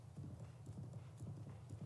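Horse hooves clip-clop in a steady rhythm in a Zelda-style video game, a soft, continuous trot under low background noise.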